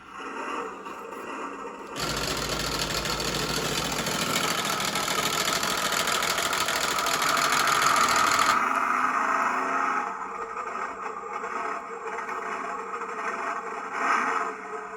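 A New Bright 1:10 scale RC Bigfoot 4x4 toy truck's electronic engine sound rumbles steadily for several seconds, revving louder in the middle, then drops to a quieter idle hum.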